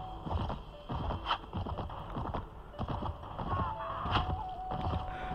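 An armored horse's hooves clip-clop steadily in the Mount & Blade video game, a brisk, continuous run of mid-distance hoof beats over a busy background of in-game ambience.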